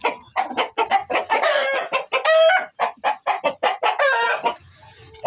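Domestic hens cluck loudly and close by in a coop, a rapid run of repeated clucks with a brief crow-like call partway through.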